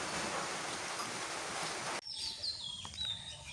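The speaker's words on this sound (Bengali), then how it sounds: "বৃষ্টি মোটামুটি হয়েছে, একদম ভিজে ফেলছে রাস্তাঘাট।" Rain falls on village roads as a steady, dense hiss for about two seconds, then cuts off abruptly, leaving a quieter background with faint bird chirps.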